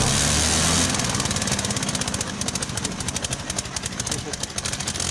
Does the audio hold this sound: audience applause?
no